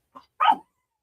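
A dog barks during a live evening chat stream, giving a faint short yip followed by one louder, fuller bark, both close by and with no talking over them.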